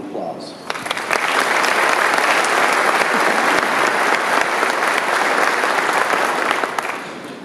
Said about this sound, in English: Let's give these important leaders a round of applause.